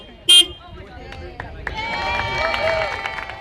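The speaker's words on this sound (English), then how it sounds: "The 20-minute procedure is capped off with a honk and a round of applause." A short car horn honk sounds near the start, followed by a round of applause from a small group of people at a driver safety fitting event, with clapping building and continuing to the end.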